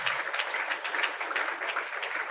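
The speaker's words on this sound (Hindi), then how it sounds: "जोरदार ताली बजाओ परमेश्वर की" A church congregation claps together in a steady, dense burst of applause during a Sunday worship meeting, loud and continuous throughout with no pauses.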